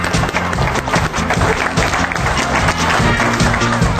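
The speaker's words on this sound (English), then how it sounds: "Let's give him applause" Audience applause rising for a host called up on stage at a clothing company's bootcamp event, dense steady clapping from a room full of people with faint voices mixed in.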